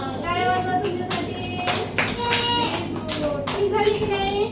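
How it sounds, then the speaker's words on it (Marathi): Children clap their hands in short, irregular bursts during a counting game with glasses at home, with a few quick sparse claps rather than sustained applause, and an adult's and children's voices are heard between them. "टाळ्या वाजवा तुमच्यासाठी"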